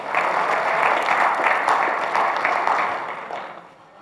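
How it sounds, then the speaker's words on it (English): A church congregation at a Sunday service claps together in a dense, sustained burst of applause that fades out over the last second. "Give them another hand clap"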